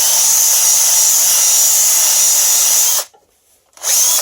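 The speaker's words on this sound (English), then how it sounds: "you take that bow gouge and go from the start of the edge all the way down to the bottom" A bowl gouge cutting a natural-edge wooden bowl on a lathe gives a loud, steady rushing whine that stops abruptly near the end, falls nearly silent, then resumes briefly, with no talk.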